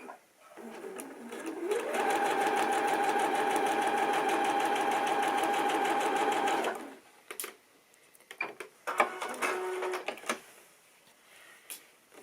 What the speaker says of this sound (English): now I'm going to want to stitch from that corner